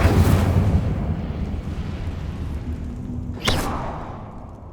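A fiery spell blast from Hogwarts Legacy bursts loudly at the start, then a roaring rumble fades, with a second sharp crackling burst near the end.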